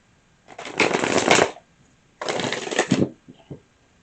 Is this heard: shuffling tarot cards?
yes